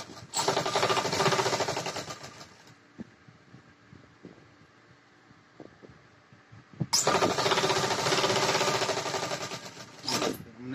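A sewing machine stitches the folded slit of a ladies kurti in two loud, close, rapid bursts, separated by a few seconds of quieter handling clicks and fabric movement.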